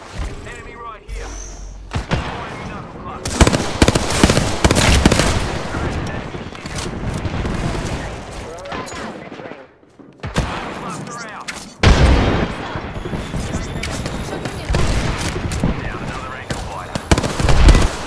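Apex Legends gunfire comes in dense, loud volleys of rapid shots with short pauses and a break midway, while in-game voice callouts sound over the battle.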